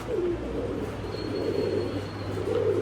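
Damascene highflyer pigeons being paired for breeding coo in repeated low, rolling murmurs against a steady background hum, with no voices.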